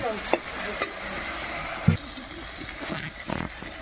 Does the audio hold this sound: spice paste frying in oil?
yes